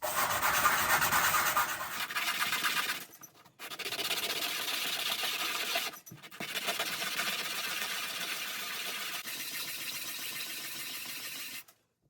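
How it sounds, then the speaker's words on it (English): Drum hoop inlay strips for a Ludwig bass drum, coiled up and rubbed by hand across sandpaper, give a steady, close scratchy abrasion that runs in long strokes with brief pauses between them, and no one talks. "I just coil them up like this and run them across some sandpaper until they're smooth"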